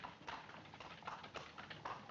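Horse hooves clip-clop steadily on a street as a horse pulls a cab, a run of regular hoofbeats at moderate distance with no talk over them.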